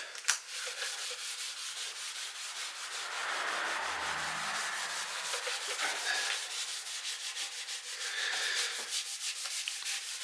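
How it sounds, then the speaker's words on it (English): Oil finish is rubbed by hand into the wooden body of a Telecaster kit guitar, making a soft, steady, rhythmic rubbing and swishing close up that continues alone for the whole stretch. "the idea, I think, is just to rub and rub and rub until you're fed up with rubbing"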